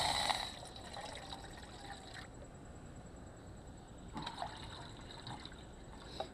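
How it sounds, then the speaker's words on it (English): Two cups of water are poured into a pot for potatoes at a campsite on the Glade Top Trail. It makes a steady trickling, splashing pour, fairly close, with outdoor background noise and no talking. "now I'm going to dump in my 2 cups of water that I need for the potatoes."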